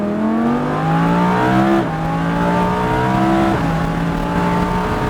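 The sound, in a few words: Lamborghini Huracán sliding and accelerating up a hill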